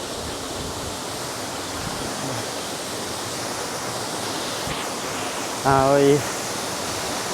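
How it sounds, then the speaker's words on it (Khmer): Continuous rushing water from an artificial waterfall at a riverside park in Phnom Penh, a steady broadband wash throughout, with a brief voice heard partway through. "មានទឹកជ្រោះសិប្បនិមិត្តបាទសម្រាប់បងប្អូនកម្សាន្តនៅកន្លែងនេះ"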